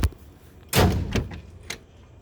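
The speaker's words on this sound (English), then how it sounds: "Doors open and close, nice." Doors on a 1955 Chevrolet 150 two-door post, a sharp thunk at the start and a heavier slam a moment later, followed by smaller knocks, close by in a quiet space.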